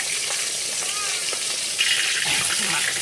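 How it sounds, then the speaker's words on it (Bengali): Fish frying in hot oil in a home kitchen, hilsa among the fish cooked, a steady bright hiss and crackle throughout that swells slightly near the end, with a voice talking faintly beneath. "তেল গরম হয়ে গেছে মাছ দিয়ে দিচ্ছি"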